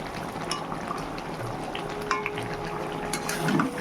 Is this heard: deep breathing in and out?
no